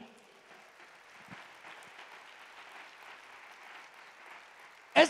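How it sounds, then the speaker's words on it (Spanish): Applause from a church congregation at a retreat in Mexico City, a soft, distant, even patter of clapping that holds steadily for several seconds before a sudden loud burst at the very end. "Dele un aplauso al Señor."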